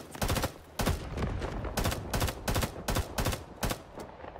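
Gunfire in Rising Storm 2 Vietnam, a Vietnam War shooter: about ten loud, sharp shots and short bursts come at uneven intervals over steady battlefield noise, close and punchy with no voices.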